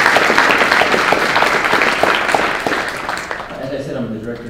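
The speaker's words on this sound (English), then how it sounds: "giving them a round of applause" A burst of audience applause at a talk, loud and steady clapping from many hands, fading out after a few seconds.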